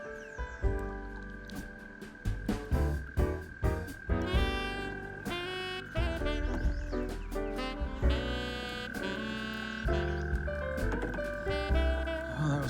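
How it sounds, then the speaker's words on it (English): Tree frogs by the Des Moines River croak in a dense, rapid chorus of pulsing calls, loud and close, overlapping continuously with no talk. "Here are the tree frogs."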